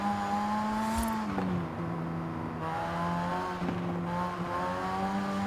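A front-engine, rear-wheel-drive car in Forza Horizon 5 holds a steady engine drone, with a brief shift or tyre chirp in the middle, then pulls on at a constant pitch.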